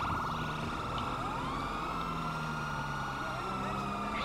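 Police and fire engine sirens wail from emergency vehicles in GTA 5 Online, rising and falling steadily over engine and traffic noise throughout.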